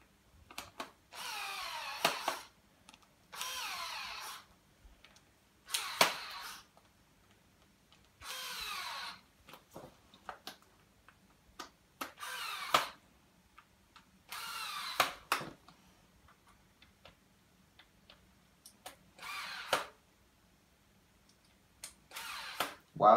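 A power driver tightens screws on a Baby Jogger stroller handle in repeated short whirring bursts separated by pauses, close and clear, with no talking.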